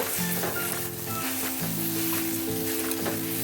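Sabudana khichdi with coriander leaves is stirred in a hot pan, giving a continuous soft sizzle with faint scraping, over a steady humming tonal background.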